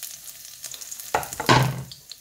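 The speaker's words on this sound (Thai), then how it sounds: "นี่ยายจอยสิมาผัดกุ้ง" Fresh shrimp stir-fried in a pan with wild garlic flowers, starting quiet then bursting into loud sizzling and clattering scrapes in the second half, close and without talk.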